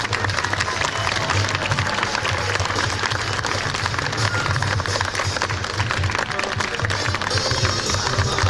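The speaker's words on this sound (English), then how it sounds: "the louder you clap, the higher she's going to jump today" Audience at a sea lion show at the Long Island Aquarium claps and cheers steadily, a dense wash of crowd noise that fills the whole stretch.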